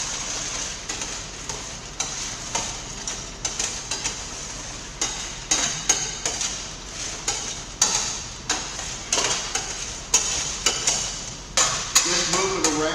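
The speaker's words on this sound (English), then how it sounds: "Just move it around, move the popcorn across the holes in the bottom of the pan so it'll catch all the old maids." A utensil stirs kettle corn coated in hot melted sugar around a pan with holes in the bottom. It scrapes in steady repeated strokes over a constant sizzling hiss, with sharp clacks against the metal.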